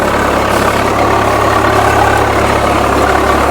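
Tractor driving a sugarcane rotavator through a dry, leaf-strewn field, a loud, steady diesel engine drone with broadband churning noise from the tilling, continuous and close.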